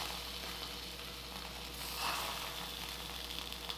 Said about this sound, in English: I'm just going to put these in. And they're going to sizzle.